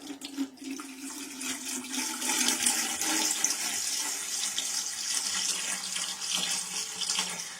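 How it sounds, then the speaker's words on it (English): A gallon of water pours steadily into a cooking pot for collard greens, a continuous rushing splash that stays moderately loud and close throughout, with no talking. "So let's go ahead and add 1 gallon of water."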